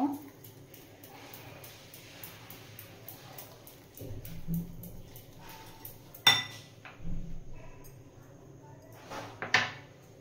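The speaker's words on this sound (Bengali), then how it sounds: "এবার আস্তে আস্তে ময়দাটা আমি এখানে দিয়ে দেব। মেশাতে থাকবো, ভালো করে মিশিয়ে নেব।" Batter for a jackfruit pancake being mixed in a bowl as flour is added, with soft scraping and stirring, a few louder clinks of utensil on the bowl near the middle and end, and a voice talking now and then.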